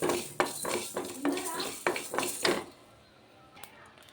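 Mustard seeds spluttering in hot oil while tempering for a tomato chutney: a quick run of sharp, close crackling pops over a couple of seconds, then dying away to near quiet.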